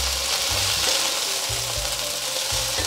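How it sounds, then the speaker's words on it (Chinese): Fried potatoes, carrots and tofu stir-fried in oil, a loud continuous sizzle up close with repeated low scraping strokes of the spatula through the pan, no voices. "接着放入炸好的马铃薯和红萝卜，豆腐也一起放进来"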